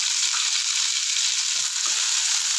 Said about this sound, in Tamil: ஒரு 15 நிமிஷமாவது வதங்கணும் எண்ணெயில்